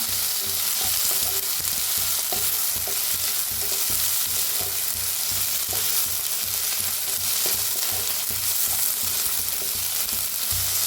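Crushed garlic and green chilli roast in a pan for Maharashtrian vangyache bharit, giving a steady, close, continuous sizzle with faint scraping stirs, with no talking.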